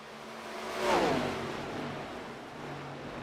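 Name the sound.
ARCA race car engines revving during warm-up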